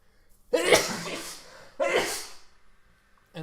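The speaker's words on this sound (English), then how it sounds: "And that's me sneezing." A person sneezes twice indoors, two sharp, close bursts about a second apart, each trailing into a brief breathy tail, with quiet room sound between them.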